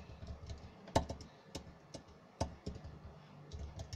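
Quiet typing on a Bluetooth keyboard: irregular, close key taps with a few louder clacks, continuing steadily with no voices.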